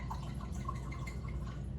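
Rosé wine pours into a small cup in a faint, steady trickle with soft dripping, over a low background hum.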